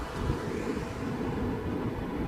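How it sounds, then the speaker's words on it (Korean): Strong winter wind sweeps across the snowy Seonjaryeong ridge near Daegwallyeong, a dense, steady roar buffeting the microphone with low rumbling gusts and no voices. "거센 바람으로 눈이 수평으로 날린다."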